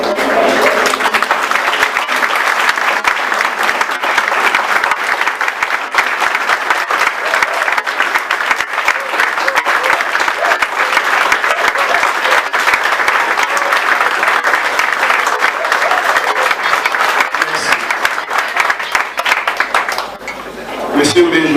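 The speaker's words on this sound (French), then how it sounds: "Permettez-moi de vous demander de vous lever pour faire 30 secondes d'applaudissement à M. B." Sustained applause from a standing audience in a hall, a dense, steady wash of clapping lasting about twenty seconds before it thins out and a voice begins speaking.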